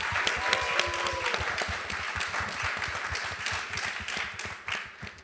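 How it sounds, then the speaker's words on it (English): An audience at a short-film screening and discussion gives a round of applause, crisp hand claps close by, steady at first and slowly thinning as it fades out. "we should all give her a round of applause for the amazing work that she helped us with."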